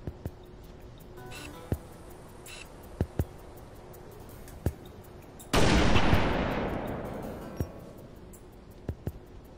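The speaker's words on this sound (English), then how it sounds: "Can you shoot your gun really quick?" Rifle gunfire in Halo Reach: one loud, near shot with a long decaying tail, amid faint scattered clicks and taps in an otherwise quiet scene.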